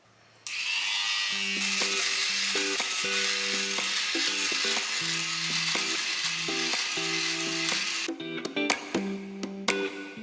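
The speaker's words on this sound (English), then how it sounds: "It works really well for like your couch, your pillows, when they start getting those little balls, the little pilling, it'll just shave it right off" An electric fabric shaver glides over a pilled couch cushion, giving a loud, steady motorized buzz for about eight seconds before breaking into short, choppy bursts near the end.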